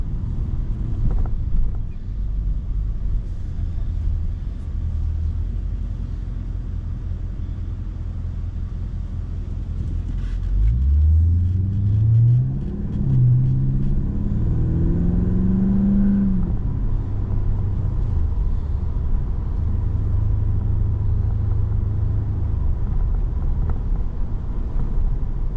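A 6-litre Holden V8 fitted with J-pipe exhaust drives along, a steady low rumble throughout with a rising rev sweep and gear changes midway, heard from inside the cab under wind noise.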